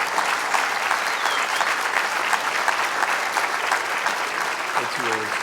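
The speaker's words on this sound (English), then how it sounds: "Now you can all clap." Steady, full audience applause fills a university graduation ceremony hall after an honorary doctorate is conferred, dense clapping throughout with a voice starting to speak near the end.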